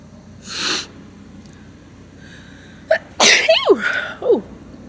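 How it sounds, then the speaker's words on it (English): A breathy intake, then a pause, then a loud, sharp sneeze with a squeaky vocal tail and a smaller follow-up burst. "Oh, I feel a sneeze coming on."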